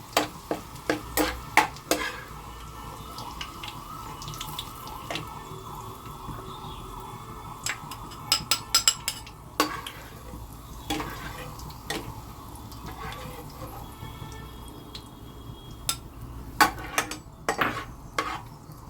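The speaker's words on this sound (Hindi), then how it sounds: "देखिए हमारी प्याज ब्राउन हो गई है, अब हम इसको निकाल लेंगे।" Onions frying until light brown in a pan for daliya gosht, with a steady sizzle broken by repeated sharp clinks and scrapes of a stirring spoon against the pot.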